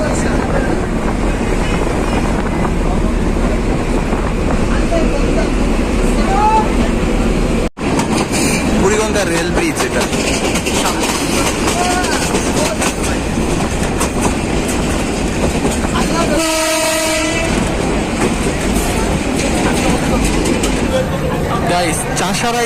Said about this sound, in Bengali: ট্রেনের ভিতরে আছি আমি ট্রেন এখন পাগলা স্টেশন থেকে ছেড়ে দিয়েছে